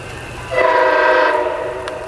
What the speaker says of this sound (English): with yet two MP36 pulling the mighty P883 westbound last time for the day